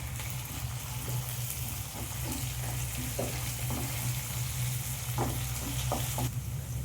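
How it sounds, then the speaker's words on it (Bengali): Ginger paste frying with onions in a pan, steady close sizzling with repeated soft stirring knocks from a spoon against the pan, with a low background hum and no talk. "যে আবারও আমি পেঁয়াজের সাথে আদাটা আমি ভালো করে ভেজে নেব।"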